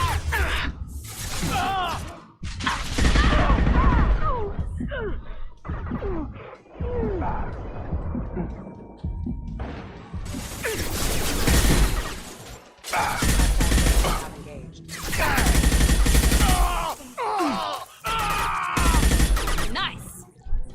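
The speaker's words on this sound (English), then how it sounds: "Taking heavy fire!" Heavy gunfire crackles through a Mass Effect 2 firefight in long, dense bursts of shots and impacts. Brief quieter gaps break up the bursts, and the battle sounds close and loud throughout.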